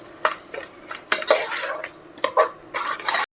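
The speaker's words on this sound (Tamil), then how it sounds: "மசாலா சேர்த்துட்டு லைட்டாக ஒரு 1 நிமிஷம் கூட நல்லா கிளறி விட்டுக்கலாம்." A spoon scrapes and clinks in a cooker pot as spices are stirred into tomato rice with basmati, several short bursts of stirring and metal contact, close and clear.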